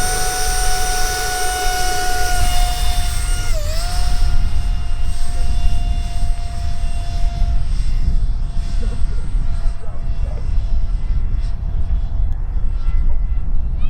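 An E-Flite Habu 60mm RC ducted-fan jet at full throttle gives a loud, close, high whine with a steady tone that dips briefly, then fades into a broad rushing roar in strong wind; voices murmur faintly underneath.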